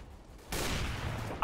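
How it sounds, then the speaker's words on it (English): A flashbang grenade goes off in a tactical video game shooter during a bomb-site fight, a sudden loud broadband burst that holds as a bright ringing wash for about a second. "Flashbang."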